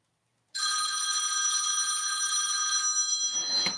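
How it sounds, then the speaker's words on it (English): A phone rings loud and near, one continuous electronic trill starting abruptly after a moment of silence and running steadily to the end, with no speech over it. "And I forgot to put my phone on silent."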